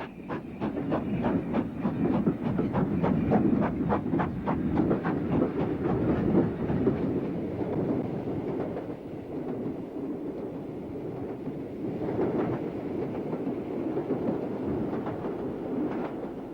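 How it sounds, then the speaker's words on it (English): A train from the late 1950s climbs the grade after Glenfinnan, with rhythmic chuffing beats and clickety-clack that fade into a steady rolling rumble, heard at moderate distance. "Here the train is approaching the top of the climb after Glenfinnan"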